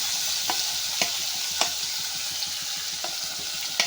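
Tomatoes, chillies and onion fry with a steady hiss in a pan for kanda poha, while a spoon scrapes and clinks against the pan every half second or so, close and fairly loud.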